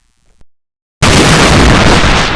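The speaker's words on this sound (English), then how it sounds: "Then a fuel tank exploded." A fuel tank explodes in a train crash scene, a sudden loud, sustained blast that roars on with heavy rumble after a brief silence, preceded by a faint small knock.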